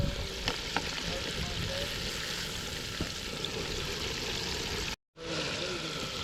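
Dense, crackling sizzle of catfish frying in hot oil in a pan, steady and close, with a brief dropout near the end.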